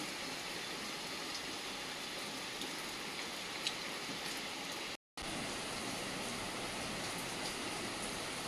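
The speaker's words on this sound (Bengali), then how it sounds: "বৃষ্টিটাও এসে গেছে খুব জোরে এই যে বাইরে" Heavy rain pours steadily outside, a dense, even roar that runs without pause from start to end with only a brief dropout, and no voices over it.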